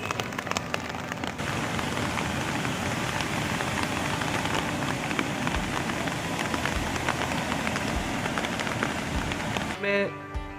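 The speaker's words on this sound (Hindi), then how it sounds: "बारिश हो गई है" Steady rain pours down during a storm in Gurugram, India, drumming on a hard surface with a dense hiss, continuous throughout, with a few louder drips near the end.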